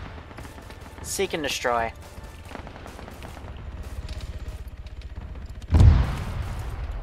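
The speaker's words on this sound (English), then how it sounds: "these guys are now exchanging fire" Gunfire exchange in the Arma 3 military game during a Warhammer 40k themed operation: a few scattered shots and one loud boom near the end, with someone speaking briefly early on.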